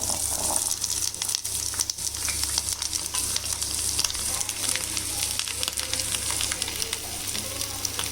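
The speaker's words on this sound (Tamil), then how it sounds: "எண்ணெய் சூடானதுக்கப்புறம் நான் இதில் வெங்காயம் சேர்த்துக்கிறேன்." Onions frying in lightly oiled hot pan for a Chettinad garlic chutney, giving a dense, steady sizzle with constant close crackle and the odd stir, loud and unbroken throughout.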